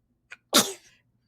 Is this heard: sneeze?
yes